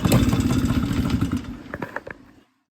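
A 2001 Yamaha PW50 motorcycle engine runs close by with a loud, buzzing two-stroke rattle, settling into a few uneven sputters before cutting out near the end.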